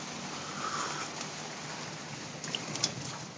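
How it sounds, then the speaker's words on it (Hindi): Rain falls steadily, a constant nearby hiss of drops on surfaces, with a few sharper patters toward the end and no voices. "बारिश चालू हो गई है।"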